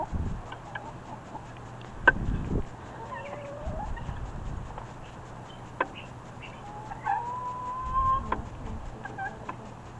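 Small backyard flock of chickens, including an old laying hen and young chicks, clucking softly and intermittently outdoors, with a few brief calls over low steady background noise and no talk.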